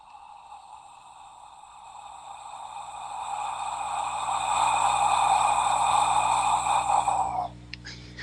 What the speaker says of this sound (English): a slow exhalation with an open sound